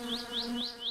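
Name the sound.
flies buzzing in My Summer Car video game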